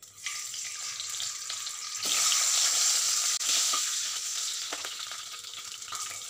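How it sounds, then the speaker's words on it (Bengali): Eggs fry in a hot pan after paneer for an egg paneer pulao, giving a close, crackling sizzle that swells louder midway and then settles to a steady hiss. "এবার আমি ডিমগুলো ভেজে নিচ্ছি"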